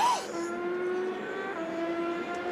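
Porsche race cars at Le Mans working through the Ford chicane, a high, sustained engine whine that rises briefly, then holds steady at moderate loudness from a distance.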